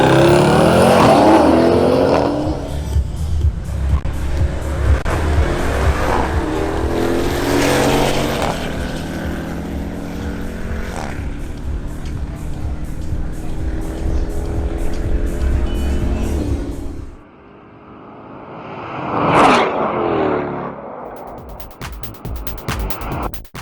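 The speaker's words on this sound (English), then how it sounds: "Next up is John Loaiza in his BMW X4 M40i, making another pass." A BMW X4 M40i accelerates hard down a drag strip, its engine roaring loudly and climbing through rising gear pulls for about seventeen seconds before fading, followed by a brief distant whoosh.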